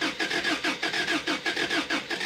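A 350 engine in a mini truck cranks over in an even, repeating starter rhythm, loud and close with no voices.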